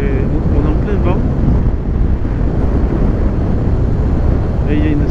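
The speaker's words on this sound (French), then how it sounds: "On est en plein vent." Strong wind buffets the microphone high on the Aveyron heights, a loud continuous roaring rumble that fills the whole stretch, with a few brief faint tonal sounds poking through.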